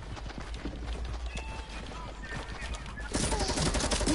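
Gunfire in Fortnite crackles as rapid, moderately loud bursts of shots with mechanical clatter, intensifying near the end, and a voice speaks briefly over it.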